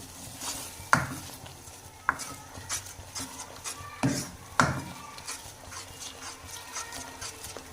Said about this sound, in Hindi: तो इसे लगेंगे 3 से 4 मिनट अच्छे से भूनने में